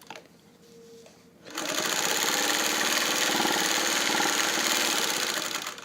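Singer 301A sewing machine with a stronger motor than a Featherweight starts after a quiet moment and then runs steadily while sewing, a loud continuous mechanical whir with a rapid stitching rhythm.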